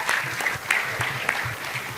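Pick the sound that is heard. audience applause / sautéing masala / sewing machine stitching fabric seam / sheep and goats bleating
audience applause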